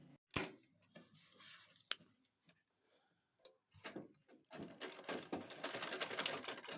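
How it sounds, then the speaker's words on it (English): Sewing machine running a seam through fabric, faint bursts of rapid mechanical clatter separated by pauses and handling clicks, then a longer steadier run near the end. "So I'm going to sew here"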